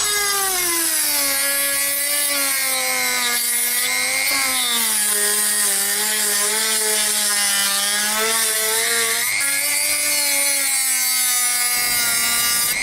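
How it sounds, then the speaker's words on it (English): A DEPSTECH DM-200A rotary tool runs a sanding drum against wood, giving a steady, loud high-pitched motor whine with a grinding rasp whose pitch dips and rises as the drum bears into the workpiece, continuous and alone. "I'm just going to have a last go on wood with the sanding drum."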